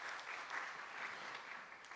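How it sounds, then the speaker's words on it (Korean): A church audience gives a brief round of applause, a soft, steady patter that sounds distant and faint. "우리 장로님 한 번 더 이렇게 박수 한번 쳐주시면"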